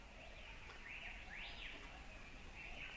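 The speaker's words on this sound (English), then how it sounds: "you hear a chorus of voices, our endemic native forest birds" Endemic native Hawaiian forest birds sing in chorus, with overlapping rising and falling chirps and whistled phrases repeating over a steady hiss of ambient forest noise.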